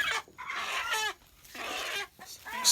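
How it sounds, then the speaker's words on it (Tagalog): A native chicken clucks in several short bursts at close range, with brief quiet gaps between calls. "Dala kasi ako ng native chicken today"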